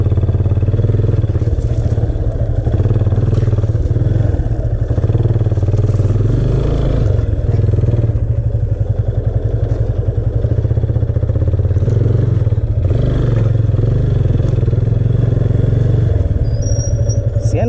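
A motorcycle rides along a freshly dug gravel road strewn with small stones in Dang, its engine droning loudly and steadily close by with clattering from the rough surface throughout.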